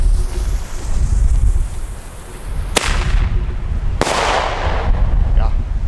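Two sharp bangs from Lesli Toxic King firework mortar shells split the air outdoors, a few seconds apart, loud and close over strong gusting wind noise.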